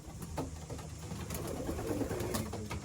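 Breeding pigeons, a cock and a hen in a loft, cooing in low soft repeated calls close by, with light background shuffling and no talking.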